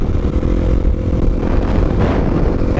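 A supermoto motorcycle engine drones loud and close while riding on the highway, a steady low throbbing roar mixed with wind rush and no talking.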